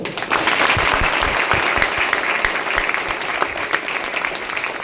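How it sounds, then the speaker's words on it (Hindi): Audience at an RCM business meeting in Nadiad clapping loudly, a dense, sustained burst of applause with sharp individual claps throughout. "यार एक बार जोर से ताली बजा दो।"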